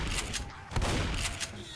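Shotgun blasts in the video game Left 4 Dead, a few sharp reports within about two seconds against a steady, busy game backdrop, with the loudest shot roughly midway.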